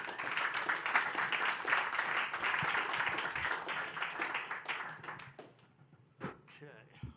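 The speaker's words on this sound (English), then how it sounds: "please give a round of applause for George" Audience applause greeting a speaker named George as he joins a stage conversation, a full burst of clapping that thins into scattered claps and fades out near the end.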